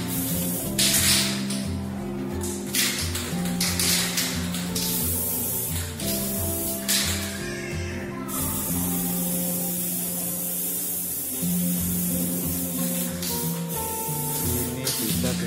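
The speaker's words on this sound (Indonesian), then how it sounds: "Setelah itu kita semprot pinggirannya juga menggunakan mal atau" A pilox spray paint can hisses continuously while painting ceiling edges through a stencil or template, a steady airy spray that rises in short bursts, with a faint music bed underneath and no speech.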